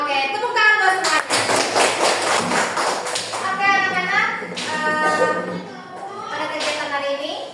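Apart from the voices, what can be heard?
children clapping hands in class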